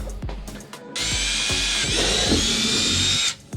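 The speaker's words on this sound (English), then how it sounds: "slowly start drilling until it starts to go into the fabric or into the plastic" A power drill whines steadily for a couple of seconds as it bores a pilot hole through a plastic car bumper, preceded by a few clicks and brief trigger starts.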